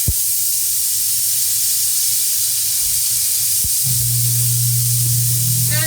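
Water hits a hot pan of portobello mushrooms and sizzles, a loud, steady hiss of steam that fills the whole stretch, joined partway by a low, even hum.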